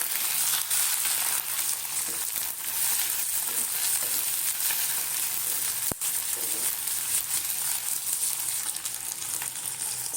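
Chutney ingredients with coriander leaves and curry leaves sautéing in a pan, a continuous close sizzle and fry with occasional stirring scrapes and one sharp clack of a spoon against the pan midway.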